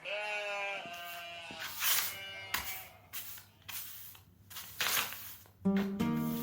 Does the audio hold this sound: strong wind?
no